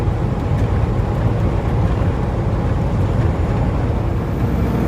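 Steady, loud low rumble of a 2020 Peterbilt 579 truck with a 13-liter engine, engine brake holding a 40,000-pound load on a 6% downgrade; a continuous droning roar throughout with no talk.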